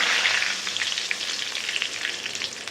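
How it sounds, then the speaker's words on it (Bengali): Two bay leaves sizzling in hot oil for chicken pulao or khichdi, a close, bright crackle with fast little pops running continuously and no speech. "এরপরে দিয়ে দেবো এর মধ্যে দুটো তেজপাতা"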